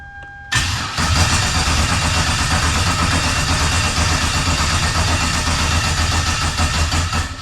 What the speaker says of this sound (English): hopefully will mean that the engine will stay running even when I cut power to the rest of the car